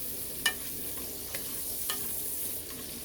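Bitter gourd and meat sizzle in a pan while being stirred, with a soft, even frying hiss broken by a few sharp scrapes and clicks of the utensil, close and fairly quiet.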